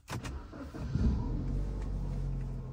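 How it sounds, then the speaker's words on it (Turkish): A BMW 3 Series E90 engine cranks briefly and catches, settling into a steady, close idle hum that continues alone to the end. "Aracı çalıştırdık."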